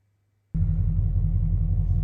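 A car starts up suddenly with a steady, loud low engine rumble and idle that continues as it begins pulling out of a garage.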